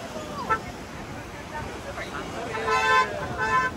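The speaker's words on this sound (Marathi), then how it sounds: "हे गाड्यांची गर्दी ते बघा" Congested traffic near Khadakwasla Dam in Pune on a heavy-rain day, with car horns sounding in a few short overlapping toots toward the end amid background crowd murmur and street noise.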